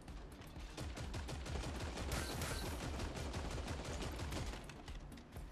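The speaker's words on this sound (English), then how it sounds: "We're getting shot at." Video game gunfire in a Fortnite-style battle, dense rapid bursts of shots rattling almost nonstop, loud and close in the mix with no voices over it.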